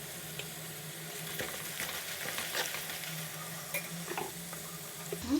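Tempering seeds for lemon rava pulihora sputter and sizzle in hot oil, a steady crackling fry with small pops and faint stirring throughout, close and fairly loud with no voices.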